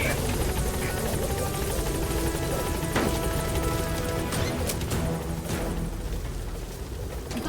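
The B-Quad support helicopter from the video game Metal Gear Solid V thrums steadily nearby, a constant rotor and engine drone with a few sharp knocks and clatters layered over it.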